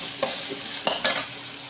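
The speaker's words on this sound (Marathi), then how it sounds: "भेंड्यांना म्हणजे थोडंसं कमी गॅस किंवा आपली इलेक्ट्रिकल शेगडी असते, कमी स्पीडमध्ये शिजवून घ्यायचं आहे." Okra frying slowly on low heat in a pan, a soft steady sizzle with three or four brief scraping stirs close by.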